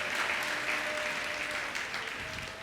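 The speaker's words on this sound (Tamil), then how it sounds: "கைத்தட்டி இன்னும் ஒரு விசை அவருக்கு மகிமையை செலுத்துங்க" A church congregation at a promise service claps together in a steady, moderately loud wash of applause, with a faint tone sustained beneath it.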